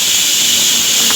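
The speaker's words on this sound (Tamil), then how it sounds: "எங்கள் குக்கரில் வந்து 6 to 7 விசில் வச்சா தான் ஃப்ரெண்ட்ஸ் நல்லாயிருக்கும்" A steady, loud hiss of steam jetting from a pressure cooker whistle while cooking chicken biryani, continuous and unbroken throughout.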